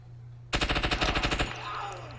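Automatic gunfire from a close quarters battle video game: a sudden rapid burst of about a dozen loud, evenly spaced shots lasting roughly a second, then a fading tail over a steady low hum.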